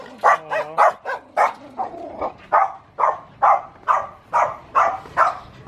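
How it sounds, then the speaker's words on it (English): A dog with one blue eye and one brown eye barks on a street in Cagayan de Oro, Philippines: about a dozen loud, close barks in a steady rhythm, with a few whiny yips at the start. "Look at that dog."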